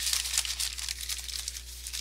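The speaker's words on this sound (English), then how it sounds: "And with this bag, I'm just gonna, you can crumple it like this" A bag is crumpled by hand up close, producing a continuous dense crinkling rustle for a couple of seconds with no voices.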